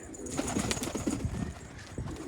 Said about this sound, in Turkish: Bak tek başına uçuracağım bu kuşu bak.